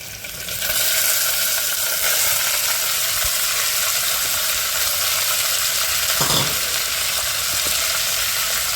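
Cluster beans dropped into a hot pan of oil with asafoetida sizzle and fry with a steady, loud hiss that starts suddenly and holds throughout, with a brief scrape of stirring near the end and no talking.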